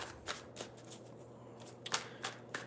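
Tarot cards are shuffled by hand in soft riffling bursts, several quick rustles close by and quiet, without talk.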